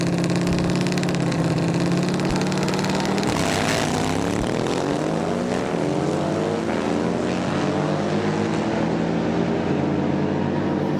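Harley Sportster drag-racing motorcycles, including a 1992 Sportster, roar in a Street Pro round-one race, a loud sustained engine blare with rising, sweeping pitch as the bikes accelerate, no talk.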